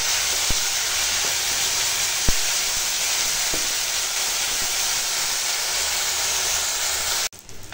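Pumpkin flowers frying in hot oil make a steady, loud, close sizzle that runs unbroken for about seven seconds, with a few faint clicks, then cuts off abruptly.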